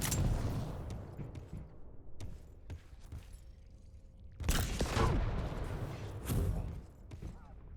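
Grenade blasts in the video game Quake Champions, several sharp booms and bursts of fire scattered across the moment, with two heavier explosions near the end over quieter game ambience.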